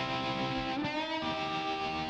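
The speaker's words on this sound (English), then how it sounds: "the tremolo," Electric guitar solo with a tremolo effect, a distorted sustained line that pulses in volume and bends in pitch midway, loud and alone with no voices.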